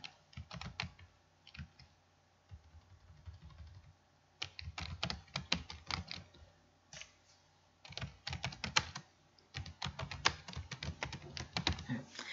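Typing on a computer keyboard while editing text, bursts of rapid close key clicks separated by short pauses, fairly quiet and with no talk over them.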